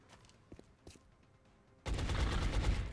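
A few soft taps give way to an abrupt, loud sustained volley of automatic weapon fire aimed at an enemy in the strategy game X-COM: Enemy Within, running dense and unbroken to the end.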